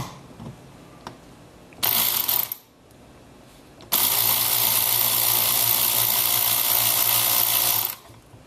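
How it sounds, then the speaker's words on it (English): A ratchet wrench cranked in reverse to loosen a quad's nut, a short burst of clicking followed by a longer, steady run of rapid close ratcheting clicks. "So it's through the ratchet and reverse, a couple of cranks"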